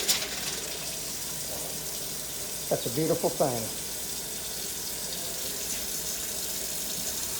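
Water runs faintly but steadily from a tap at a house being renovated, a soft continuous hiss, with a short remark spoken over it partway through.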